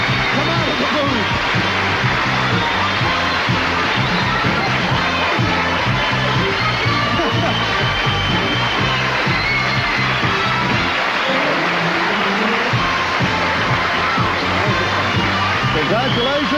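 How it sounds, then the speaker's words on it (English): A TV quiz show studio audience applauds steadily, a dense wash of clapping with a few cheers mixed in, sustained throughout. "Take the applause."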